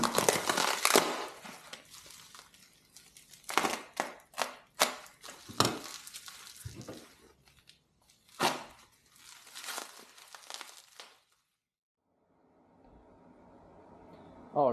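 Real MZ65 pipe being unpackaged: bursts of crinkling and tearing packaging and plastic rustle, close and fairly loud, separated by quieter handling, then near silence and a faint hum toward the end.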